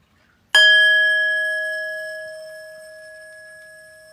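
A metal bracelet rings with a single bright bell-like strike, a clear sustained tone that slowly fades away in otherwise quiet surroundings.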